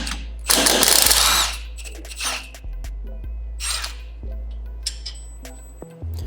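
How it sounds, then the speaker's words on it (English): A ratchet clicks close by as it loosens the sway bar bolts on a Lexus GX460 during a suspension install, in several short bursts with pauses between them and no talk. "Here we're releasing the bolts from the sway bar."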